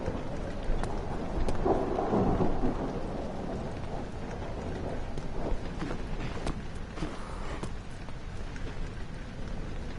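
Thunderstorm ambience from the Rainy Hall level of the Amnesia video game: a low roll of thunder swells early over steady, hissing rain drumming on surfaces, with scattered droplet patter throughout.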